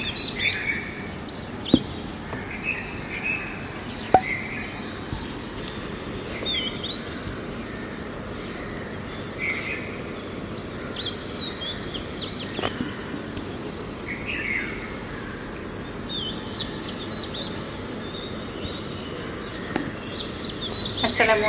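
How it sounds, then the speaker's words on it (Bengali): Several birds chirp and call at dawn, with a steady insect or cricket hum running underneath. The calls come as repeated short bursts at moderate distance, and there is no talking. "আস্তে আস্তে করে পাখির ডাক শুনতেছি।"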